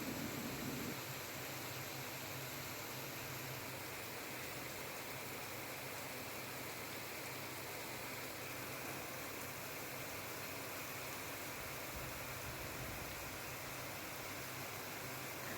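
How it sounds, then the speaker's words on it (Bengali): A heavy downpour of rain beyond a balcony gives a constant, faint wash of broadband hiss that barely changes over the whole stretch, with no one speaking. "এদিকে দেখেন মুষলধারে বৃষ্টি শুরু হয়েছে।"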